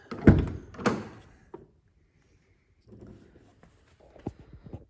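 Car door of a Fiat 500, two loud thunks close together as it is handled, then quiet, followed by softer clicks and small knocks from the door and interior.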